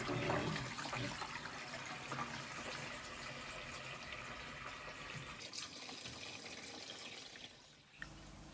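Water pours steadily into an aquarium tank as it is filled, a continuous rushing and splashing stream that runs throughout and thins slightly near the end.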